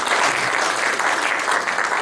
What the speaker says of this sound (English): Well, I guess we can just clap anyway, I guess.